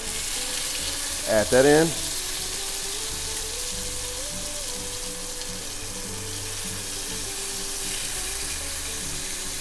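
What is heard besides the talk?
marinated meat searing in a pan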